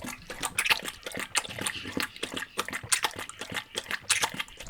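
A dog laps water from a bowl in rapid wet slurps, close and fairly loud, in a steady irregular rhythm.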